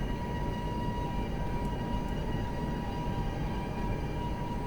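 The Bhavnagar Kakinada Port Express 17203, hauled by a WAP-5 electric locomotive in the MSTS train simulator, runs with a steady, unbroken rumbling drone and a sustained tonal hum, without voices.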